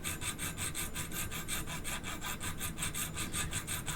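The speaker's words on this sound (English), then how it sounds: "I'm filing over the top like this" Steel file strokes rasp over the top edge of a tool, a fast, even rhythm of close scraping passes, about four per second, with no talk.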